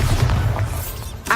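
A Bombarda blasting spell goes off in Hogwarts Legacy as a loud, low boom that rumbles and fades over about a second, followed by a sharp brighter burst at the end.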